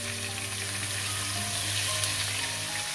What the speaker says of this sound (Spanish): Vamos a freír un poco el bacalao, primero por la parte de la piel.